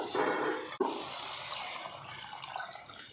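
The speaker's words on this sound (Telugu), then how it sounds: "ఇప్పుడు ఇందులోకి చింతపండు రసం పోసుకుందాం" Tamarind juice poured into fish curry in a clay pot, a faint liquid splash and trickle with a sharp clunk near the start, fading into soft bubbling.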